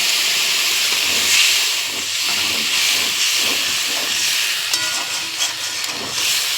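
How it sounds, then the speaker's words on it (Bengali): Water poured onto hot spice paste in a pan sets off a loud, close, continuous steamy hiss and sizzle that holds steady for several seconds, with no talking. "সামান্য একটু জল দিয়ে দিই মশলাটা কষানোর জন্য"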